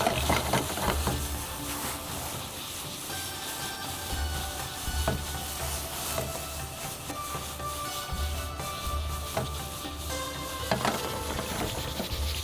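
Tomatoes with salt sizzling in a pan on full heat while being stirred, a continuous close sizzle with scraping and rubbing strokes throughout.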